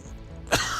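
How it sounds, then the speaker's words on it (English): A single short cough from a man with a cold, close and abrupt, rising out of quiet background room noise. "So I apologize about the coughing"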